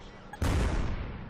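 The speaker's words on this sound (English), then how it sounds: "I'm going to go ahead and take some shots on him" Tank cannon shot in the World of Tanks video game, played in a Panzer II J: one sudden heavy boom with a long rumbling decay, loud and close, no talking.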